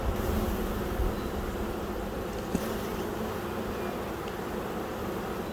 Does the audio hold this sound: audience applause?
no